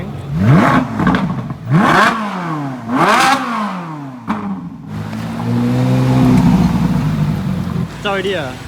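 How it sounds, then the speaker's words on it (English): A Ferrari engine revs sharply three times at a car meet, each blip rising and falling, then settles into a sustained rising roar before cutting off. "Round 2 of Ferrari revving."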